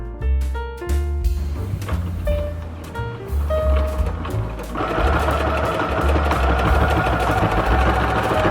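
A home sewing machine runs under pedal control while stitching a tie top, its motor whirring steadily and loudly and its needle rattling in quick repeated bursts, with a denser, continuous stretch toward the end.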